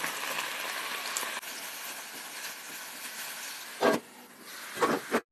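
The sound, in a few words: beef strips frying in oil in a covered pan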